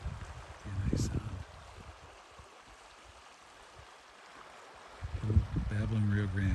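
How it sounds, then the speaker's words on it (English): The Rio Grande at Cottonwood Campground in Big Bend National Park babbles softly as a narrow stream, a faint steady trickle heard alone in the middle with people talking at the start and end. "Oh, Babbling Rio Grande."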